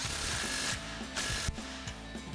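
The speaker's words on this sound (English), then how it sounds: "we'll go ahead and just snug this clamp down for now, using our 15mm socket on our ratchet" A ratchet fitted with a 15mm socket snugs down a clamp on a Ford F-250's MBRP Armor Plus exhaust, giving a steady run of close, fast clicking strokes with brief pauses between pulls.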